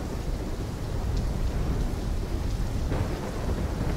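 Heavy rain with rumbling thunder in the video game Call of Duty: Black Ops III, a dense, steady roar of downpour and low rolling rumble, loud and unbroken throughout with no voices.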